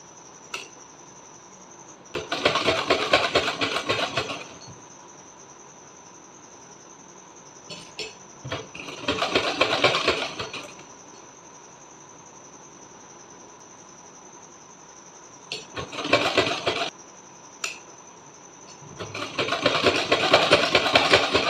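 A sewing machine stitches red multi-thread cord onto a small doll dress for Laddu Gopal, running in four separate bursts of rapid mechanical whirring, with a faint steady high whine between runs.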